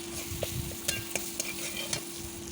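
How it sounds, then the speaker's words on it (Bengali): Salt and turmeric sizzle in a hot pan with a constant crackling hiss, punctuated by several sharp clicks of a utensil against the pan. "মশলাটা একটু ভাজা ভাজা করে নিয়ে"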